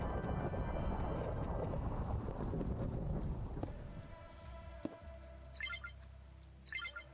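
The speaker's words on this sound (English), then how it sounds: "it's thundering whenever I want to speak" Thunder rumbles through steady heavy rain, a loud continuous roll that fades gradually, followed by a sharp crack and quieter rain with brief chiming game tones.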